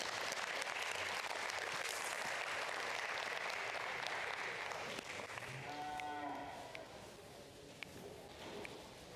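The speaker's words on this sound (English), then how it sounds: "Let's give them a big round of applause." Crowd applause for the winners of a heifer show at a county fair and rodeo, broad and steady at first, then thinning out while cattle moo and low in the background.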